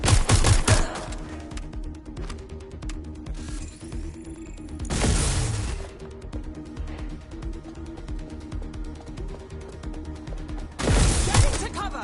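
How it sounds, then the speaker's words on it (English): Loud gunfire from the video game Watch Dogs Legion in a London street fight, with dense bursts at the start, around five seconds and near the end over a continuous game soundscape and backing music. "Shots fired! Shots fired!"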